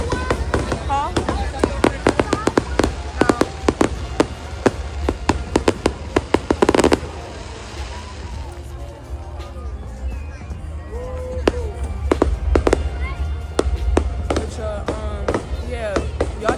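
Fireworks going off at a family outing: a dense barrage of sharp cracks and bangs, loud and continuous, easing briefly midway before more pops, with people talking and voices throughout.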